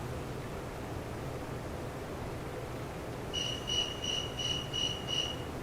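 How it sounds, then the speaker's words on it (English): Tree cricket chirps played from a recording: a short run of six evenly spaced, bright pulsed chirps starting partway through, over steady low background hiss. "So this is the tree cricket."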